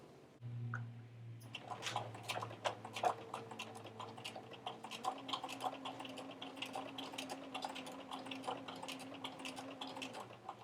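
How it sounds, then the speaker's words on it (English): A sewing machine stitching along the raw cut edge of a vinyl doll shoe toe piece, giving a quiet, rapid ticking of needle strikes over a low motor hum, close and steady. "I'm going to try to stitch right on this edge, this raw cut edge, so it's really, really close to the edge of the toe piece"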